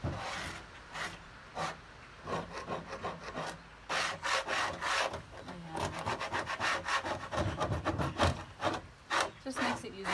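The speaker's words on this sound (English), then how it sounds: "we're going to take our scraper and we're going to try to scrape some of it" A scraper rasps excess finish off wooden furniture in repeated close, scratchy strokes that speed up into a quicker rhythm toward the end.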